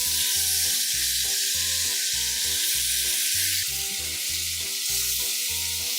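Chicken pieces fry in oil in a kadai, a continuous bright sizzle running under loud, rhythmic background music throughout.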